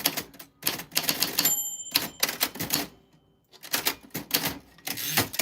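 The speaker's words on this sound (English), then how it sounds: "I'm typing everybody's names on a vintage typewriter for fun." Rapid mechanical keystrokes clack on a typewriter in bursts, with a bell ding and carriage return sound in the middle, fairly close.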